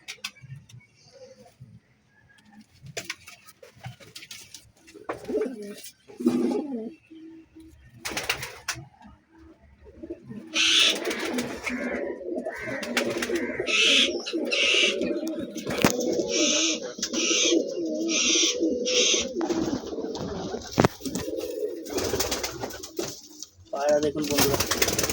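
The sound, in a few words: pigeons cooing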